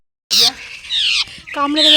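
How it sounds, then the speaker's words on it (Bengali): A rescued bird, soaked through, lets out several loud, harsh squawks in quick bursts right up close after a sudden start. "দেখো কি অবস্থা পাখিটার।"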